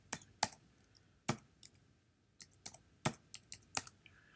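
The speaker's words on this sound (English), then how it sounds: "do not copy what I'm typing" Computer keyboard keys clicking in short uneven bursts as an IP address is typed into a web browser while setting up a Raspberry Pi Zero camera; close, crisp clacks with brief pauses between groups of keystrokes, no talking.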